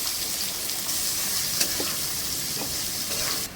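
Onions hitting hot oil already tempered with cumin seeds, dried red chili and garam masala, giving a dense, even sizzle with a few light stirring clicks, close and steady, no talk.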